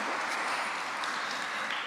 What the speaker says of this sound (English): give them another round of applause for such commitment